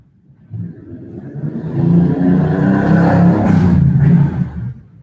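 A motorcycle, a wrecked bike being rebuilt, starts up and runs with a steady, loud engine rumble that rises and holds near the microphone for several seconds before easing off.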